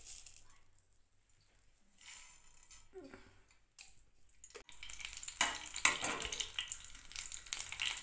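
Mustard seeds and two dry red chillies frying in mustard oil over a high gas flame, quiet at first, then crackling and sizzling that swells into a louder, steady frying hiss with scattered pops.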